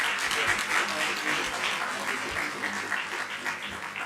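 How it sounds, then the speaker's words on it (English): An audience applauds at a formal conference session, Practice and Procedure Week, after a panel discussion. The clapping is dense and steady and fills the room for about four seconds, with no voices over it. "our moderator, discussants, and all of us deserve a resounding applause"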